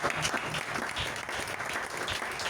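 Church congregation applauding together, a steady dense clapping that fills the room throughout without pauses.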